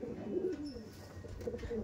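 Kasmadom pigeons cooing nearby in a breeding setup, soft low throaty coos rolling in short phrases at moderate volume, with no talk over them.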